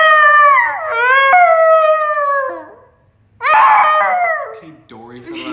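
A person vocally imitates a whale call with long, drawn-out, wavering tones that bend in pitch, two sustained cries separated by a brief pause, loud and close.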